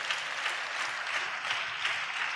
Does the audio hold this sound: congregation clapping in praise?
yes